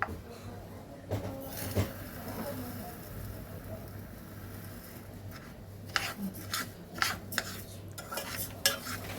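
A spoon scrapes and clinks in a bowl as cocoa powder is mixed with sugar, with soft rubbing strokes followed by a quicker run of close taps and scrapes.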